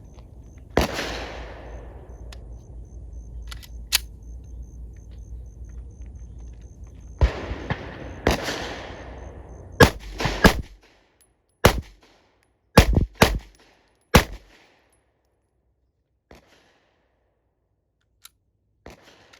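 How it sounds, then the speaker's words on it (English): Canik Mete MC9 pistol fired in a failure-to-stop drill: sharp, loud shots in quick pairs and singles with gaps between strings, the first ones ringing out with a long decaying echo, then silence. "I'm going to do a failure to stop. 2 shots to the chest, 1 to the head, 2 to the chest, 1 to the head."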